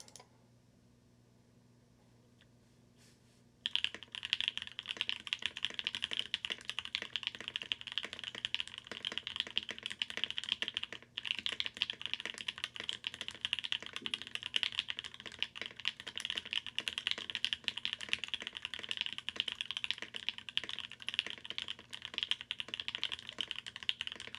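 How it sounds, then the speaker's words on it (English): Rapid, steady typing on a custom-built mechanical keyboard during a typing test, a dense run of close, crisp keystrokes that starts after a few quiet seconds and continues alone to the end. "let's do one last typing test."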